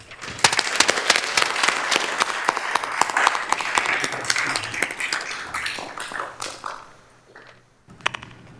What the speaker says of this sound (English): Please join me in a round of applause for our school administrators and all of our district administrators